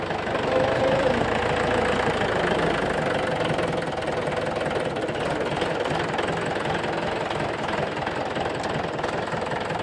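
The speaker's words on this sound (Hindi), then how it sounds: "आप लोगों के सामने ट्रैक्टर भाई चला के दिखा रहे हैं" A heavy tractor diesel engine, converted into a JCB-style loader, runs steadily and loudly close by, with a rough knocking rumble throughout and no talk.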